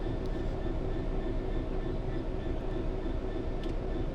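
A Class 66-hauled aggregates train rolls slowly through a hopper loading point, a constant broadband rumble of wagons and machinery with faint high squeals and no voices.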